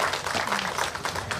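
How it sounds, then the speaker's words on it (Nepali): An audience claps together at an indoor gathering, a dense patter of many hands that runs as a steady, moderately loud burst of applause with no talking. "सर्वप्रथम उहाँको नाउँमा सबैजनाले ताली बजाइदिनु"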